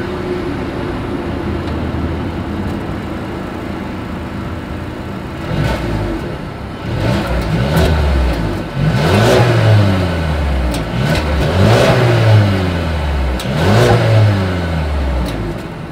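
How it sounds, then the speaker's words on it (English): Exhaust of a Mercedes A220 with chrome-tipped outlets: a steady idle gives way to three or four loud, close revs that climb and fall back, no voices. "As always, here is that exhaust clip."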